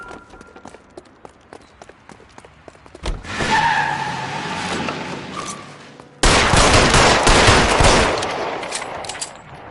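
Gunfire erupts during a robbery standoff with police: scattered sharp cracks first, then dense, loud rapid bursts like a fusillade that fill the last several seconds.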